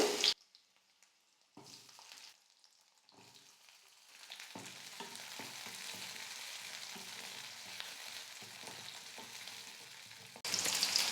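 Small onions and garlic sautéing in hot oil for a fish kuzhambu: after a quiet start, a soft, continuous frying sizzle builds and holds at moderate level, ending with a brief louder burst.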